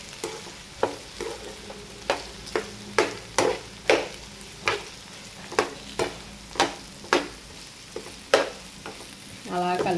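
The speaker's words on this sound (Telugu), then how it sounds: "అలా కలుపుకుంటూ ఉండండి మధ్య వరకు బంగాళదుంపలు." Potatoes frying in a pan, a steady sizzle broken by a regular series of sharp scraping and clacking strokes as a spoon stirs them, close and clear.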